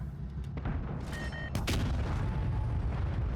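A tank firing a HEAT shell in World of Tanks Blitz, a sharp loud boom cutting through steady engine and battle rumble, with a couple of smaller bangs before it.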